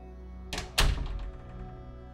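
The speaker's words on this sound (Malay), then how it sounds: "sekali lagi pintu depan tertutup" A front door swings shut with a soft first knock and then a heavy, close thunk that rings briefly and fades into quiet room tone.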